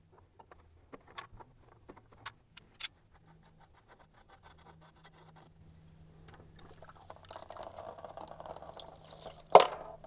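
Diesel fuel drips and trickles from the removed fuel filters of a John Deere 2032R compact tractor, with sparse faint drops at first and then a soft continuous trickle, ending with a sharp clink.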